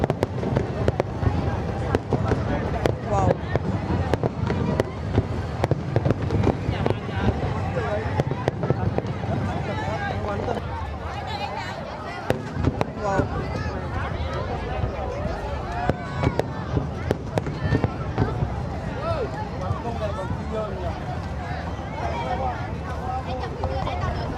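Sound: fireworks display in Vietnam

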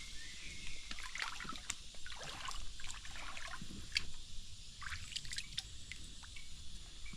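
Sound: river water trickling

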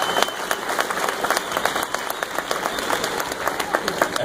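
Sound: audience applauding horses at Clydesdale show

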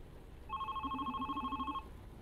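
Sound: telephone ringing in video game The Red Strings Club

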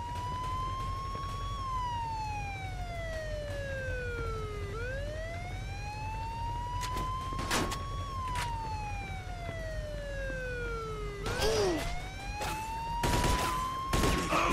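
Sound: police car sirens in video game Mafia 2

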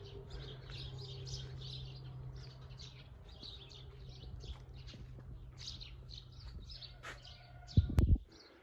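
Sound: sparrows singing

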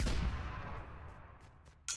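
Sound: thrown bomb exploding in the video game Fortnite

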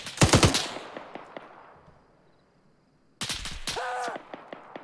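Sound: gunfire in video game Arma 3

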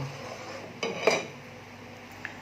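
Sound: stirring a boiling pot of soy milk

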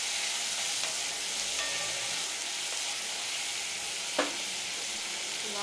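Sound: onion sautéing in a pan

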